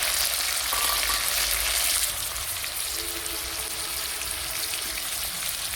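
Onion paste and raw cumin frying in a pan, a close, loud crackling sizzle that is strongest at first and then settles into a steady hiss, with no one talking.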